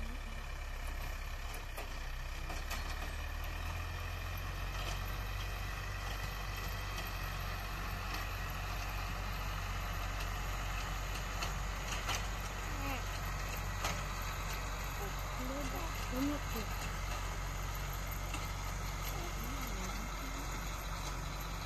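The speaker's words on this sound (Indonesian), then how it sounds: "Lagi nengok Bangau mau naik traktor" A low engine drones steadily throughout, a tractor chugging at a moderate distance, with faint birds and wind over the constant rumble.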